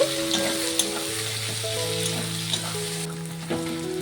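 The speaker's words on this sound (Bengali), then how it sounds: "পেঁয়াজটিকে একটু ভেজে নেব।" Chopped onions frying in oil, after potatoes, while preparing a home-style Bengali mutton curry, hiss with an even sizzle dotted with small pops and crackles, alongside a low steady tonal hum throughout.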